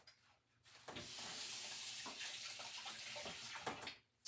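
Running tap water splashes steadily onto fresh sweet potatoes being washed in a sink, fairly quiet and close, with brief handling clatters as the flow starts and stops.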